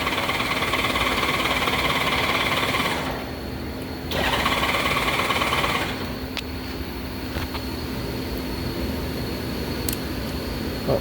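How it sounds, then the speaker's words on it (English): A 1998 Honda GoldWing SE fitted with a trike kit starts up and runs, a steady smooth engine drone with brief dips, close and loud, with no talking. "Starts right up. Sounds good, very smooth running motor."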